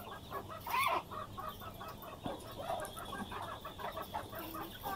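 Desi laying hens clucking in a low, scattered chorus, one louder squawk early on and softer clucks continuing at a moderate distance, with no talking.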